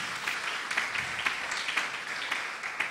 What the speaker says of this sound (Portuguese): Aplauda ao Senhor, queridos, que Ele merece